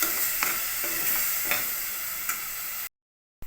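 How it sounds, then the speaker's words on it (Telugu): Tomato paste sizzles and crackles steadily in a curry pan with black-eyed peas, with occasional stirring scrapes, close and continuous before cutting out abruptly near the end. "యాడ్ చేసుకొని టమాటో బాగా ఫ్రై అయ్యేంత వరకు ఫ్రై చేసుకోవాలండి."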